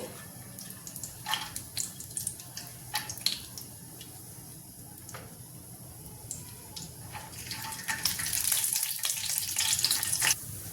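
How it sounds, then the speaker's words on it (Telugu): Cashews frying in ghee in a pan, a low crackling sizzle with scattered pops and stirring clinks, growing to a brighter, louder hiss near the end, with no talking. "ముందుగా కాజు వేపుకుందామండి."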